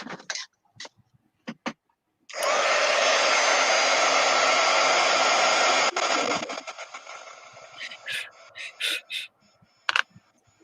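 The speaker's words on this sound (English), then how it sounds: "I'm going to try to blow dry this just a little bit." A handheld hair dryer blows loudly and steadily for about four seconds on a St Patrick's Day craft, then cuts off, with short bursts of handling noise and rustling before and after.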